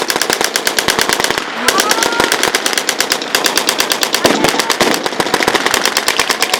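Light machine gun fire at a battle reenactment of the defence of Westerplatte, loud rapid bursts of shots in dense rhythmic strings with brief pauses, close and continuous over outdoor battlefield noise.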